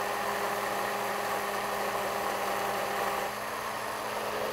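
Blender motor running steadily while blending a ginger balsamic dressing, a loud continuous whir that holds throughout with a slight shift in pitch near the end as the texture changes.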